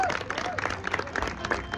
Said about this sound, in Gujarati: તાળીથી અમારા અરુણભાઈ ચાવડાને વધાવી લેજો